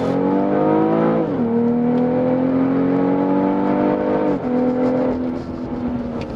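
A BMW X3 M40i in Sport Plus mode accelerates hard, its engine note climbing steadily through two rising pulls separated by a quick shift, loud and close with no talking.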